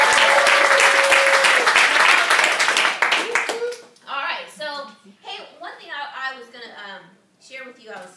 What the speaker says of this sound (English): So give those 5 people a round of applause.